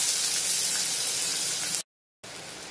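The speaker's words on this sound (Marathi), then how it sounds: "सर्वप्रथम यामध्ये मी घालणार आहे ठेचलेला लसूण, हिरवी मिरची, कढीपत्त्याची पानं आणि कांदा।" Crushed garlic, green chili, curry leaves and onion hiss loudly in hot oil in a pan, a steady bright sizzle that cuts out briefly, then resumes.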